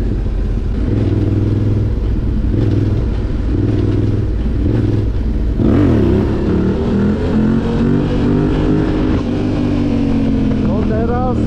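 A vehicle overtakes while riding along on a Yamaha Raptor ATV, its engine droning loud and close throughout, with engine pitch sweeping up and down as the other machine passes.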